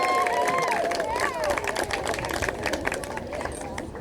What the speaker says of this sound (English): Let's give a big cheer for the city of Richland.